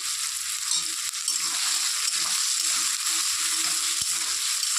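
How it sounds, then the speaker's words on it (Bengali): Onion and potato fry in a pan with a loud, steady sizzle throughout, while faint low knocks sound beneath it. "পেঁয়াজ আলু একসঙ্গে ভাজা হয়ে যাবে"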